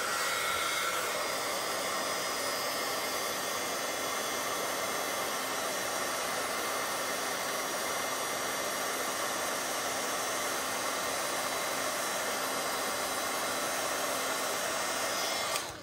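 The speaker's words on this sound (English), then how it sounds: "Grab your heat tool." Continuous loud whooshing roar of a heat tool blowing hot air over embossing powder on a stamped card, steady and close for the whole stretch before cutting off at the end, with no voices.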